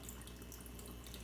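Tap water runs steadily into a test tube while it fills to a marked line for an aquarium water test, a soft continuous splashing trickle heard up close, alone with no talk.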